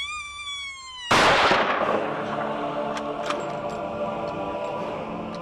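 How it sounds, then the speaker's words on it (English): A single sharp, loud rifle shot from a .264 is fired at a running coyote in open canyon country, followed by a long rolling echo that fades over several seconds. A tone sounds just before the blast. "I swung through him right here while he was running away, and just poleaxed him with that 264"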